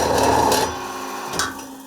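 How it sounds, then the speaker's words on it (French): Cold saw cutting metal stock in a village blacksmith's forge, a steady grinding, rasping drone without sparks, louder at first, then easing off with a brief scraping bump near the end. "Donc ça, c'est ma scie frein, c'est ce qui me sert à faire les débits"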